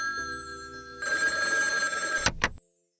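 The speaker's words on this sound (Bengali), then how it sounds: "রাইট টাইমে আবার রং ফোন এসে কাছে ডিস্টার্ব করছে" An old-style telephone bell rings loudly and continuously for a wrong-number call, a bright metallic trill after a short low hum, cutting off with two quick clicks as the handset is picked up.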